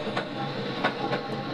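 A train rumbles past very close by in Vietnam, a steady loud clatter with rhythmic wheel clicks over the track joints, heard alone without talk.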